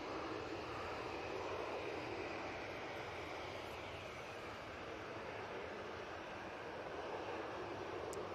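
A TUI Boeing 787 Dreamliner at Manchester Airport gives off a steady, distant jet roar that holds evenly and fairly faint throughout, with no voices.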